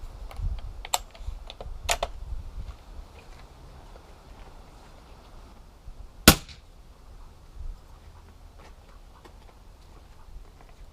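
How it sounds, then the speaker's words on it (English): An Umarex Gauntlet 2 .30 caliber air rifle fires a single sharp, loud pop close by. Before it come a few lighter clicks and handling noises, and quiet fumbling sounds follow against a low background. "point the rifle in a safe direction and just pop one off"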